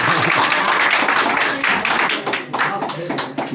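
Students clapping in a classroom, a dense wash of many hands slapping together continuously and fairly loud, with a few voices mixed in.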